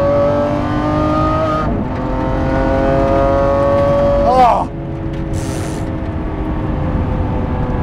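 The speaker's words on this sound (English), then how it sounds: "I am driving a 2020 Lamborghini SVJ." A 2020 Lamborghini SVJ drives and accelerates, its engine a loud, steady close-up roar that climbs through a gear change before settling into sustained high-speed drone, with a brief exclamation from the driver.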